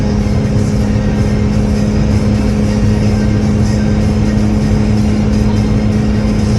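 An LS-swapped car engine pulls up a hill at 75, a loud, steady low drone with a constant hum and rushing road noise, unchanging from start to finish.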